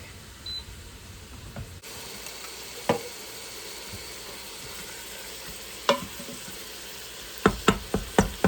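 Ground meat is stirred and crumbled in an Instant Pot: a faint sizzle underneath, with scattered scraping knocks of the utensil that turn into a quick run of sharper taps near the end, quiet and close.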